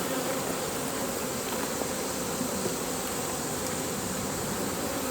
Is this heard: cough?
no